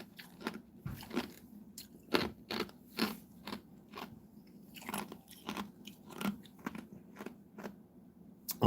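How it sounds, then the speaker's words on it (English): Ice being chewed up close, irregular sharp crunches and crackles of cubes cracking between teeth, repeating in uneven bursts with no talking. "I'm here chewing on ice."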